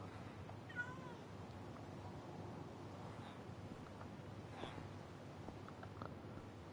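Cats meow in a video game, with a few short, faint calls scattered over a steady windy, rumbling backdrop and no talking.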